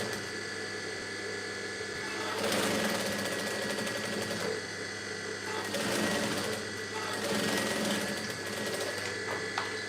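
A sewing machine runs steadily while joining iro and buba fabric with a doubled, folded seam, its fast mechanical whir continuous throughout and swelling in louder bursts around the middle and later on.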